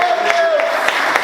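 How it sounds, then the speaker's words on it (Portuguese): A church congregation claps and cheers for Jesus, a dense burst of applause and voices with sharp claps throughout, full and close. "Você pode aplaudir Jesus?"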